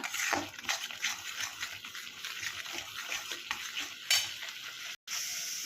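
Masala spice paste being stirred and fried in a pan for egg masala curry, a steady close sizzle broken by scraping strokes of a spoon against the pan, with a brief silent gap near the end.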